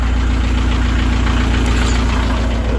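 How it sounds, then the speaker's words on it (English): A wharf engine idles with a loud, close, steady mechanical rattle and a rapid knocking pulse running evenly throughout with no break. "that engine has just started knocking terribly"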